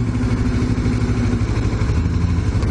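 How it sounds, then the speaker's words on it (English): Motorcycle with a debaffled stock dual exhaust, idling and running steadily near the rider with a low, throbbing rumble throughout and no speech. "One thing I like and dislike at the same time are the exhaust on this, because I'm so used to mine, which is debaffled."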